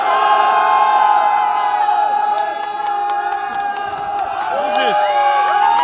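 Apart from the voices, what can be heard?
crowd cheering at a rally in Trafalgar Square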